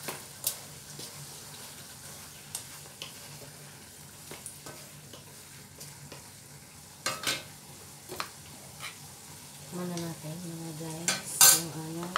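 Old-style chicken adobo is stirred in a pan with a little added salt, bringing sporadic metal utensil clinks and scrapes over a faint low sizzle, with a brief louder bubbling burst near the end.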